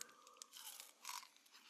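Someone bites into a Zagnut candy bar made of crunchy coconut and chocolate. Close, quiet crunching and chewing crackles in a few short bursts, with no other sound.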